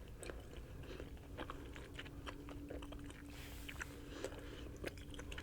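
Bubble gum is chewed close to the microphone in a quiet room, with soft wet clicks and squishes repeating irregularly at a low level and no voices.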